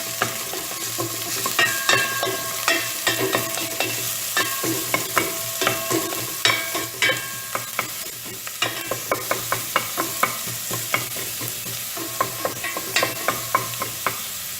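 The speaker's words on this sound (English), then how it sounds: "There we have hot olive oil in this stainless steel pot, and we are going to add the first batch of onions." Onions frying in hot olive oil in a stainless steel pot for vegetable soup, a steady close sizzle broken by frequent sharp clicks and scrapes of stirring, with no talking.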